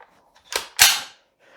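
Two sharp cracks in quick succession, the second louder with a short ringing decay, from an HK 416D .22LR rifle firing nearby.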